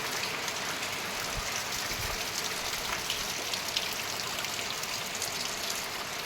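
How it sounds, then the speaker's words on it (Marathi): Steady, heavy cloudburst rain pours down in Jalna district, India, in a dense, continuous hiss of drops striking surfaces, with no voices and no letup throughout. "आमच्याकडं लगातार तीन दिवसापासून पाऊस चालू आहे"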